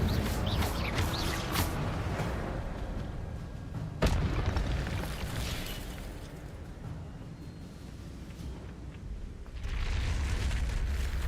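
Incendio fire spell cast in Hogwarts Legacy: a dense, roaring burst of flame and rumble with a sharp crack partway through, continuing as a steady low roar that swells again near the end.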